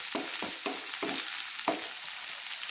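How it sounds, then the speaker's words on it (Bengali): Tomatoes fry in mustard oil for a spinach and lentil dal, giving a steady sizzle near the pan, punctuated by rhythmic scraping strokes of a spatula stirring them. "টমেটোগুলোকে একটু তেলের মধ্যে আমি কষিয়ে নিচ্ছি, হালকা হালকা করে আমি একটু কষিয়ে নিচ্ছি।"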